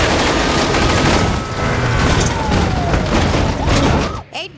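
Dense, sustained gunfire in an action film scene, rapid overlapping shots and bursts filling the clip loudly before cutting off abruptly near the end.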